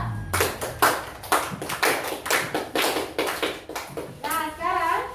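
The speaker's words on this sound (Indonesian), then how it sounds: "Tepuk tangan untuk kelompok 2." Children in a classroom applaud a student group with a run of loud, rhythmic claps in quick bursts that carry on for several seconds, and young voices rise briefly at the end.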